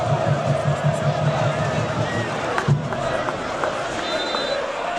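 Portuguesa football supporters chanting and cheering together at the Canindé stadium, a steady dense crowd roar with rhythmic chant pulses at the start and scattered whistles later on.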